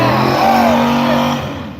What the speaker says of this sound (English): She started it up and that thing revved to the moon.